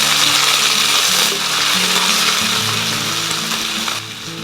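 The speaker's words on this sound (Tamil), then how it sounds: "இப்போ வெங்காயம் வதங்கட்டும்." Peeled, cut small onions fry in oil for Pallipalayam chicken, a dense continuous sizzle that stays loud and close throughout, easing slightly near the end, with no voices over it.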